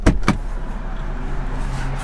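Two sharp mechanical clunks from the door of a BMW M340i opening as the driver climbs out, followed by a quiet low hum from the car.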